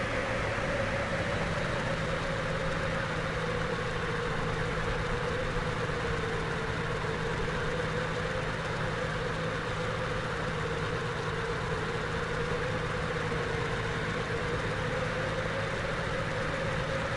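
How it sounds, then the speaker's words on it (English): Microlight aircraft engine idling in Microsoft Flight Simulator X, a steady droning hum with a faint constant whine, holding evenly throughout with no voices. "Now reduce the throttle a bit and slow down."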